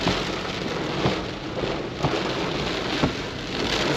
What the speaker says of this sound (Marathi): एवढा जोरात पाऊस पडतो